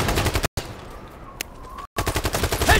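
AK-47 fire in the shooter game Brothers in Arms 3, loud rapid automatic bursts close up, broken by two brief silent gaps, with a quieter stretch between bursts.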